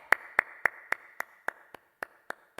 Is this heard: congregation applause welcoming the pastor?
yes